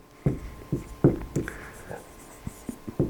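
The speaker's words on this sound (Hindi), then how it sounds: "मैं यहाँ पर लिखता हूँ" Chalk or marker strokes on a board during an Arabic grammar lesson, a run of short, close scratching taps in irregular rhythm with brief pauses between them, and no talk over them.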